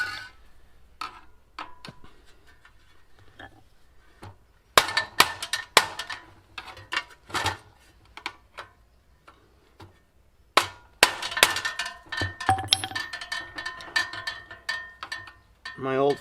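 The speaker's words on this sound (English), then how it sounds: "there's nothing easy about removing these rusty screws" A flathead screwdriver working at rusty lock screws on an old Pointer arena, irregular metallic clicks, scrapes and clanks in bursts with quiet gaps, close and sharp.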